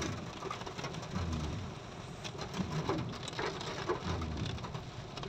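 Heavy rain falls steadily in Quezon City, a dense hiss of drops on surfaces with some louder patters, and faint bird calls mixed in.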